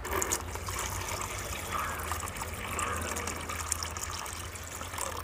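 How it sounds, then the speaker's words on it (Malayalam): Pond water holding guppies pours from a net into a plastic bag, a soft continuous trickle and splash at close range with small gushes, fairly faint and without speech. "നമ്മൾ നേരെ നമ്മുടെ ഈ കവറിലോട്ട് ഒഴിച്ചു കൊടുക്കുകയാണ്"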